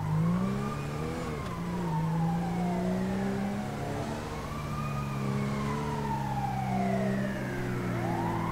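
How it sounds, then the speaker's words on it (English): Wailing ambulance sirens sweep up and down continuously in the video game GTA V with the LSPDFR police mod, loud and close, several overlapping tones layered over a low engine rumble. "Got some ambulances going code 3."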